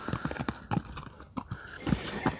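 A Quarter Horse with a well-groomed mane and tail clops its hooves at a ranch in Zapopan, Jalisco, in a steady run of moderately close steps over faint background noise.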